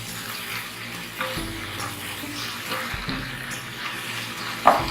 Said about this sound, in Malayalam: തക്കാളി ഇട്ട് കൊടുത്തതിന് ശേഷം ഒരു 2 മിനിറ്റ് നമുക്ക് വഴറ്റി കൊടുക്കാം